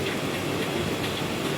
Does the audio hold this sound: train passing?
yes